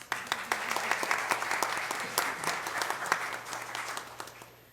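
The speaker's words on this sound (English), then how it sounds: "Can I get a round of applause?" Applause from an audience at a city commission meeting in Ocoee, honoring 35 years of service to the city; steady dense clapping with distinct sharp claps, moderately near and sustained throughout with a faint low hum beneath.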